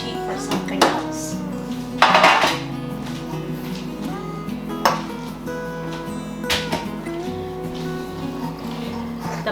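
Spoon scraping and knocking around a bowl of stiff chocolate chip oatmeal cookie dough with toasted pecans, a few sharp clinks against the bowl amid quieter rasping strokes and faint kitchen background.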